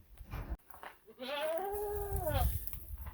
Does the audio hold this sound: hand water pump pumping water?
no